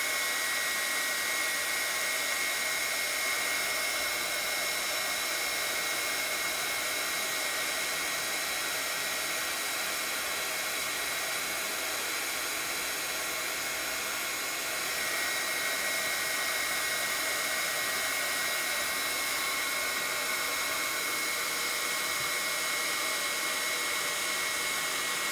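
A heat tool blows steadily to heat-set embossing powder on a card, a constant close, loud whooshing hum that runs for the whole stretch without pause.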